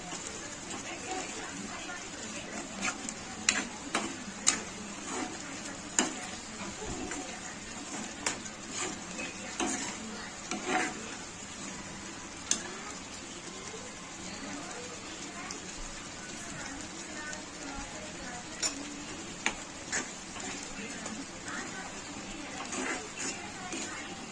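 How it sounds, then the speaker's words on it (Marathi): Masala of turmeric powder, coriander powder and salt frying in oil for a hotel-style egg curry, a steady soft sizzle with faint scattered crackles and a few clicks of stirring throughout. "तेल सोडेपर्यंत थोडंसं आपण मसाला फ्राय होऊन देणार आहोत."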